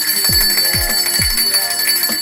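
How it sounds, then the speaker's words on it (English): Several small bells ring brightly with sustained metallic tones, punctuated by three or four low thumping strikes at a steady pace, loud and close with no talk. "These are the discount bells."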